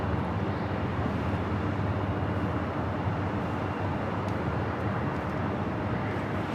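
A Condor airliner from Frankfurt, in beige beach livery, arrives at LAX with a steady, broad, low jet rumble that holds at an even distance with no voices.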